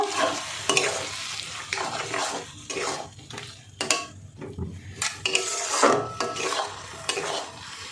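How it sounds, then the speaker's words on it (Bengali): Ground mustard and poppy seed paste stirred into a hot pan for a prawn and taro-stolon chorchori, a spoon scraping and clinking against the pan in irregular strokes over a steady sizzle, close and alone. "দেখুন বেটে রাখা মশলাটা দিয়ে দিলাম মিশিয়ে নেব"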